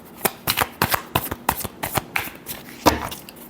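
Tarot cards riffled and shuffled by hand in a quick run of crisp, papery flutters and snaps, close and fairly loud, with no talking.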